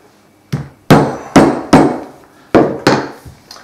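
Hammer blows presetting holes for hollow rivets in leather, six sharp close strikes at uneven intervals, each ringing briefly before fading, with a faint tap at the start.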